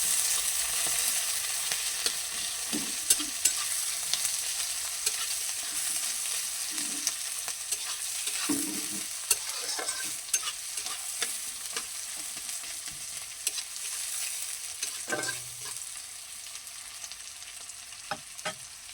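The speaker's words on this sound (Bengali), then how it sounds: "সুন্দর করে পেঁয়াজটাকে ভাজতে হবে" Chopped onion and garlic fry in a pan with a soft, continuous hiss, broken by irregular scrapes and taps of a spatula stirring throughout; no voices.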